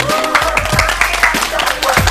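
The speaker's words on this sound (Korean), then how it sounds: "박수 좀 주세요" Studio audience of a Korean TV dating show applauding a newly introduced contestant, steady close clapping with crowd murmur and a host talking over it.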